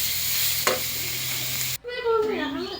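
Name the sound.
batter frying in a pan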